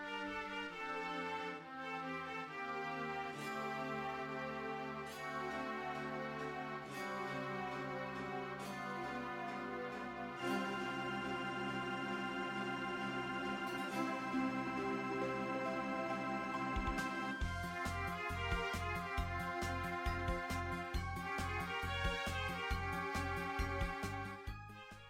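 A theme from the video game Pipistrello and the Cursed Yoyo, a steady instrumental track with bright melodic lines over a pulsing bass that gets busier in the second half, clear and continuous.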